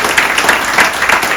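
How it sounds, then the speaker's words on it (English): Steady applause from an audience aboard the cruise ship Voyager of the Seas, dense clapping filling the whole moment with no voices over it. "give him a big round of applause for that"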